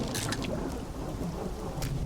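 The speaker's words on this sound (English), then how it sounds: "Sounds like it's starting to rain." Rain patters steadily in the video game Dredge while low thunder rumbles underneath, with brief crackling bursts over a quiet, continuous storm ambience.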